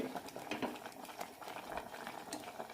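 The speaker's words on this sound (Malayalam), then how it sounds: "കറി നന്നായി തിളച്ചിട്ടുണ്ട്" Cucumber and drumstick leaf curry boiling in a pot, a quiet, steady bubbling and gurgling with soft popping, close but faint, no talking.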